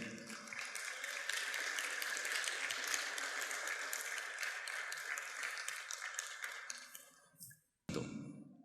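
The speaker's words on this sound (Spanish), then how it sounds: "Un aplauso le damos al Señor." A church congregation claps together in a dense, sustained round of applause that fades and cuts off abruptly near the end.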